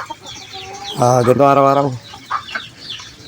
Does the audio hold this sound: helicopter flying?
no